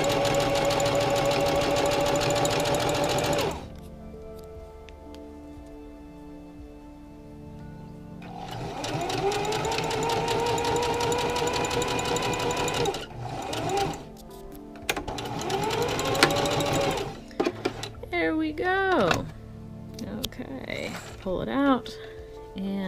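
A sewing machine stitches fabric for a medical gown in several bursts: a long whirring run, a pause, then shorter starts and stops with rising and falling motor pitch, with a voice speaking briefly between runs.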